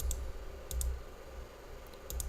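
Mouse clicks on a spreadsheet macro button, heard as a few sharp, close clicks spaced over about two seconds over a low background hum, with no talking.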